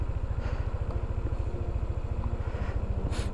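A Yamaha NMAX Tech Max scooter engine idles close by, a steady low, even pulsing throb held without pause, with no voices.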